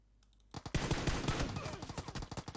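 Rapid bursts of Uzi fire in PUBG Mobile crackle after a short quiet start, sharp and close, with a fast, uneven rhythm of repeated shots that continues to the end.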